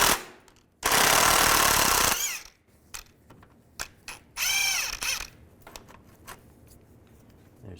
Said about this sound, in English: Use a 15mm socket.